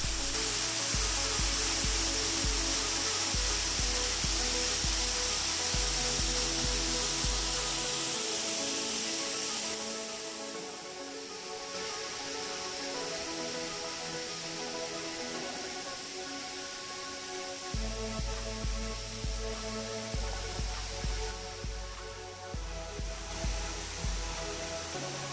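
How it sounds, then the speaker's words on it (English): Water at the small Meenmutty waterfall pours steadily over rocks in a broad, continuous hissing rush, loud and close, with a low rhythmic thumping pattern running through parts of it. "the amazing sound of water flow and awesome view of the waterfall"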